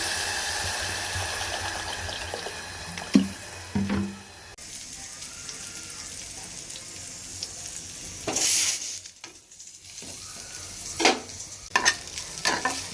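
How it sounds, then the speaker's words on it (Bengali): In a home kitchen making vegetarian khichuri of arhar dal and atap rice with fried sides, bursts of frying sizzle and stirring alternate with running tap water and brief pauses, with no talk. "প্রতি শনিবারের মতন আজকেও অরহর ডাল আর আতপ চালের নিরামিষ খিচুড়িটা বানাচ্ছি আর তার সাথে জলদি কিছু ভাজাভুজি বানিয়ে নেব"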